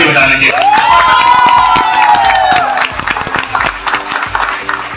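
A packed meeting hall erupts in loud clapping and cheering, with whoops and shouts rising sharply at first, then settling into dense, close applause that gradually thins.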